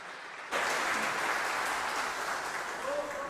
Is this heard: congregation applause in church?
yes